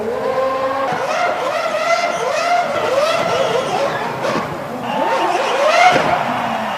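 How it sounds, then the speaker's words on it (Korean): A Ferrari F2005 Formula 1 car performing at the 2006 Turin Winter Olympics opening ceremony, its engine loud and close as it revs up and down in rapid sweeping wails, with tyre squeal mixed in. "2006년 토리노 동계올림픽 개막식에는 무려 F1카가 등장해서 짧지만 강렬한 인상의 퍼포먼스를"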